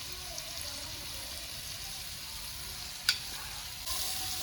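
Mixed spice masala and butter poured onto a hot pan sizzle with a faint, even frying hiss, broken by one sharp utensil clink partway through and a slight rise in sizzle toward the end.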